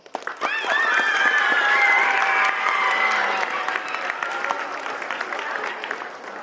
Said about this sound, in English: I'd like for y'all to give a big round of applause to all the parents that came out to support you all.